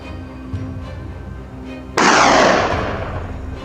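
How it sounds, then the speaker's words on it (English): Gunfire is aimed at invasive wild boars. A sudden loud blast breaks a quiet outdoor backdrop and trails into a sustained rumbling roar. "Gunshots rang out continuously"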